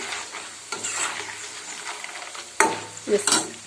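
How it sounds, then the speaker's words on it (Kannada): Mustard seeds and cumin hit hot oil in a pan, crackling and sizzling up close while a spoon stirs and knocks against the pan a couple of times. "ಹೆಚ್ಚಿಟ್ಕೊಂಡಿರೋ ಸಾಸಿವೆ ಜೀರಿಗೆನು ಸೇರಿಸಿದೆ ಇಷ್ಟು ಎಣ್ಣೆಯಲ್ಲಿ ಇದಾಗುತ್ತೆ ಅದು ಚಟಪಟ ಅಂದತ್ತೆ"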